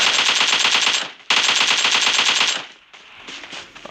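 Rapid, loud automatic gunfire in the video game PUBG, two long sustained bursts separated by a short gap, then fainter scattered shots trailing off.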